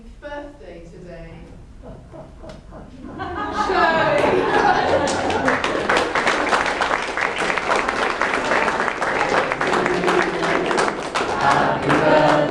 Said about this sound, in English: there's somebody else who needs even a bigger round of applause